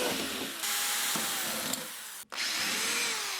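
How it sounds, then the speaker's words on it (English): A power drill whining steadily as it drills out metal rivets, with a brief pause before the drill spins up again, loud and close. "So be very careful when you're drilling rivets out."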